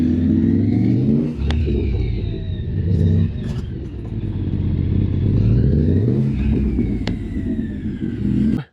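A motorcycle riding figure eights, its engine droning steadily and rising and falling in pitch as it loops through turns, loud and close until it cuts off at the end.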